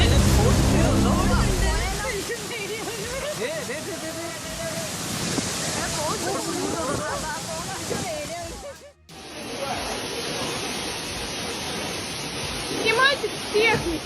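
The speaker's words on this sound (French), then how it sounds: "les chutes d'eau de la région se sont immédiatement transformées en une gigantesque monstruosité" A waterfall in India swollen into a huge torrent after tropical rains, a loud, constant roar of rushing water with someone speaking over it, then a sudden cut to a steadier churning rush.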